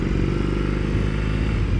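BMW R18 motorcycle engine accelerating in rock mode, a loud, steady low boxer-twin drone with dense rumbling harmonics, close and continuous throughout with no talk.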